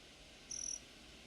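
A short cricket chirp, a single thin high trill lasting under half a second, faint against a quiet outdoor nature background.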